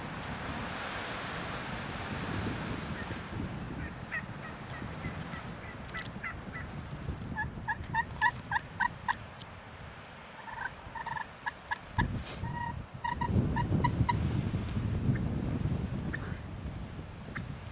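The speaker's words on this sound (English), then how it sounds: "Where's the gobblers at?" Wild turkeys gobbling during a spring turkey hunt in Kansas, with a series of distant gobbles and clucks repeating through the middle, over outdoor wind noise.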